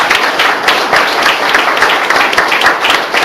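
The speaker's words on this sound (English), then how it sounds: "go ahead, give a round of applause." An audience at a political talk gives a round of applause, with close, lively clapping whose individual claps are audible and which holds at a strong, even level throughout.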